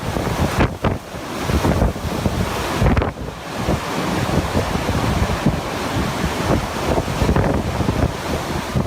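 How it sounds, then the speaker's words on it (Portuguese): Violent tornado winds rated EF3 to EF4 in Dolores, Uruguay, roaring continuously with heavy buffeting gusts that batter the microphone, a loud, steady rush with no talking. "É assim que se parece um tornado de categoria EF3 a EF4."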